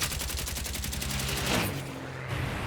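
Rapid machine-gun fire from a WW2 bomber's guns aimed at a German Fw 190 fighter, a fast run of close, loud bursts that gives way to a steady aircraft engine drone.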